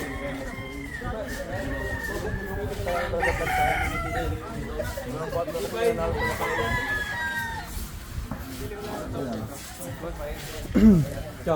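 A rooster crows loudly up close at a gamecock farm expo, with other birds clucking and people talking in the background.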